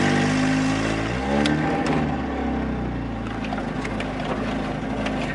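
A Mitsubishi Eclipse engine with no catalytic converter runs loud and close, its rough idle rising and falling in pitch through the first seconds, then settling into a steady throaty drone, with no talk.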